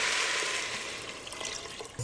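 Water poured from a container into a pressure cooker holding sautéed onions, garlic and arborio rice for risotto, a rushing splashy stream that is loud at first and tapers slightly.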